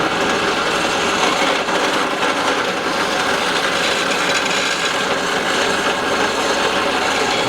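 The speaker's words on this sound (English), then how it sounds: "I'm going to turn on the drill and lower it down very," An electric drill runs continuously while lowered slowly onto a test rig in a friction-reducer lubricant test, a loud steady grinding, rubbing whine close by without pause.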